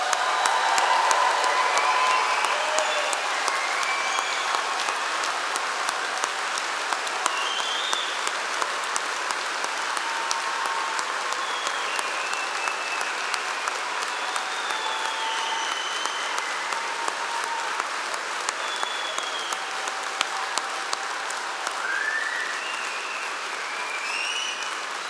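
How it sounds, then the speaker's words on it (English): A large audience at an Open University degree ceremony in London's Barbican Centre gives graduates a sustained round of applause, a dense, even wash of clapping that carries on for over twenty seconds with a few faint cheers. "can we start off by giving all of our graduates a huge round of applause?"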